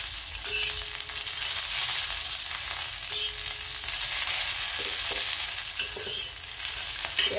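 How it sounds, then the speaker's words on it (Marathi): Green chillies sauté in hot oil with a steady, close, crackling sizzle, broken by occasional stirring scrapes and pops. "असे चांगले डाग पडून तर आपल्याला मिरची परतून घ्यायची।"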